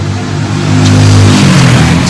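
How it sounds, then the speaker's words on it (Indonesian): Motorbikes roar past close by on a roadside in Blitar, Indonesia, as a loud engine drone swells and then fades over about two seconds. "Ini karena belinya di pinggir jalan, jadi banyak motor yang lewat ya teman-teman."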